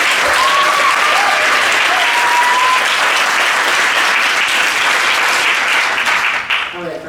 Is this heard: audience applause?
yes